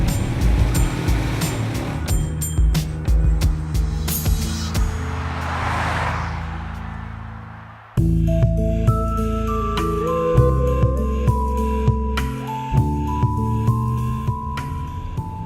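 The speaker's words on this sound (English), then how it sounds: "the Bentley is a lot of fun to drive out here in the real world" A 2015 Bentley Continental GT Speed driving on a country road, its engine a loud steady drone that swells, drops off sharply, then resumes with rising and falling tones as the car pulls through gear changes.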